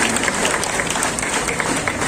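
An audience at an Independence Day flag hoisting in the police lines breaks into loud, dense applause, many hands clapping steadily and close for a couple of seconds, with faint crowd murmur mixed in.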